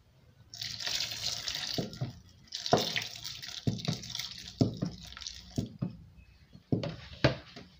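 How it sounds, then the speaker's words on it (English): Clean water is poured into blended soybean paste while making soybean milk, a steady hissing pour broken by several splashes and pauses, close by and fairly loud. "I'll add a clean water."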